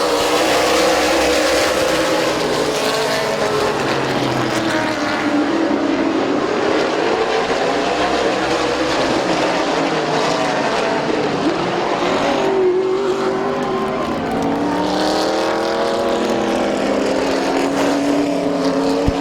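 Race cars circling a speedway, engines roaring loud and continuous as several cars pass close with rising and falling pitch, with no talk over them.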